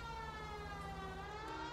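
Police car siren in the L.A. Noire video game, a continuous wailing tone with slowly gliding pitch, heard fairly faint and steady over low engine rumble.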